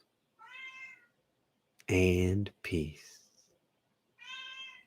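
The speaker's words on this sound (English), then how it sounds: "Yes, even kitty cats, especially kitty cats, can participate in this loving circle." A domestic cat meows twice, a short harmonic call near the start and another at the end, with a person speaking softly in the middle between them.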